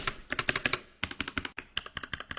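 Rapid mechanical keyboard typing, close and crisp, with bursts of sharp clacky keystrokes in an uneven rhythm and a brief pause near the middle, alone without any talk.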